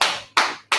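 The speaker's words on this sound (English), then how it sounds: "Clap it up, up on the time." Two or three short bursts of audience clapping, each fading quickly, sparse and brief, from an audience at a history event.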